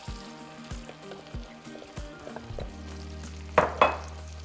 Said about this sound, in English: once the chorizo is cooked, I'm going to be adding 4 cups of cooked pinto beans